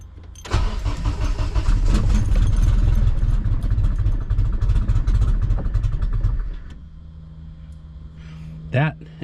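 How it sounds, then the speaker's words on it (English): A car with an upgraded 500-plus horsepower fuel system and a KRX throttle body starts for the first time and runs at a rough, very low idle for about six seconds before cutting off, followed by a brief voice. "That is a very low idle."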